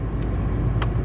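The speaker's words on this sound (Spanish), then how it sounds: "Ya estamos de regreso en el carro." Steady low engine rumble and road noise inside a moving car, with a couple of faint brief clicks over the constant hum.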